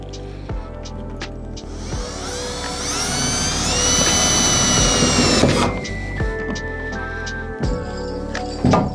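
A power drill with a screwdriver extension drives screws while wiring a trailer, whirring in several bursts, with one long rising whine in the middle, close and loud.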